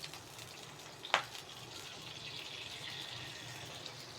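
Butter melting and heating in a little oil for a garlic tadka, a soft steady sizzle with faint bubbling, broken by one brief sharp clink near the middle.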